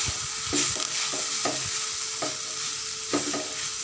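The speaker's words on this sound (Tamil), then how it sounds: "வதங்கிட்டு இருக்கிற முருங்கைக்கீரை வாழைப்பூ பொரியலில் சேர்த்துட்டு ஒரு ரெண்டு நிமிஷத்துக்கு நல்லா வதக்கி விட்டுக்கலாம்" Drumstick leaves and banana flower sautéing in a pan for a coconut stir-fry, a steady sizzle with regular rhythmic scrapes and knocks of a spoon stirring, close and clear.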